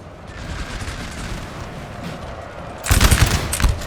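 A 12-pounder cannon fires canister during a Napoleon Total War multiplayer battle: a steady distant battle rumble gives way near the end to a loud, sharp crackling burst of gunfire-like blasts that lingers to the close.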